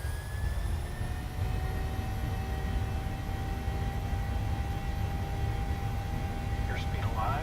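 Flight simulator airliner jet engines spooling up for takeoff on a runway, a steady loud roar with rising whining tones held throughout, a brief higher sweep near the end.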